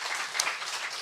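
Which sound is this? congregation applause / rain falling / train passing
congregation applause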